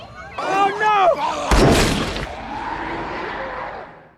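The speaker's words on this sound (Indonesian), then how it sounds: "ada suara tembakan yang ternyata itu berasal dari Little Rock yang masih menyimpan pistol" A single sharp pistol gunshot in a zombie film cracks out loud and sudden, following shouted dialogue and trailing into a reverberant decay under music.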